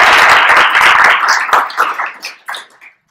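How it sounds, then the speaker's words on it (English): A workshop audience at a data science conference claps for the speaker, a full burst of applause that thins out into scattered last claps and fades to silence. "join me in a round of applause for Nicole White."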